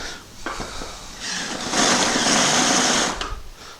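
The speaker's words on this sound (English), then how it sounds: "I'm going to drill with a larger drill bit. Then I'm going to use the final size bit." A power drill whirs close by, fitted with a larger bit to enlarge holes in a metal shed, the motor revving up and down in short pulses, loudest in the middle of the burst.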